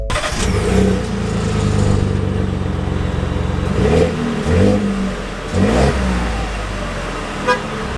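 A 2024 Ford F-150 XL truck engine revs and accelerates in several loud surges, rising and falling close by, with a short horn-like toot among the pulses.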